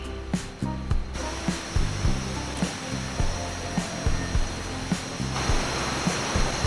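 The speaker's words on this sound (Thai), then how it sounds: "น้ำตกห้วยแก้ว ถึงแล้วครับ" Huay Kaew waterfall in Chiang Mai gives a steady, dense roar of rushing water, loud and constant throughout. Faint regular knocks sound beneath it.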